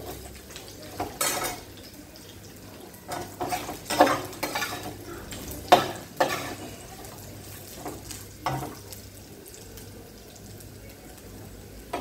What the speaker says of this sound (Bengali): নারকেলটা একটু ভাজা ভাজা হবে।